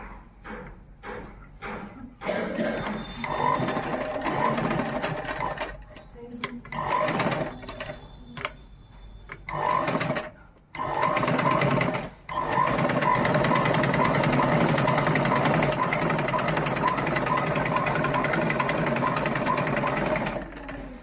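A sewing machine stitches a uniform shirt in several bursts of steady, close mechanical whirring. Short pauses break up the first half, then it runs long and continuous.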